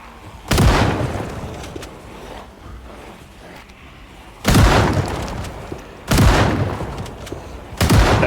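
Four heavy shotgun blasts in the Project Zomboid game, loud and booming, at uneven intervals with a steady low rumble between them and no talking.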